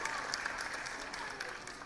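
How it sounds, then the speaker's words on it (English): Children and adults at a school annual day event applaud a riddle answer in a brief, dense burst of clapping, with voices mixed into the crowd noise. "Let's give a huge round of applause"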